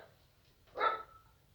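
A single dog bark, short and fairly faint, heard at some distance against a quiet background.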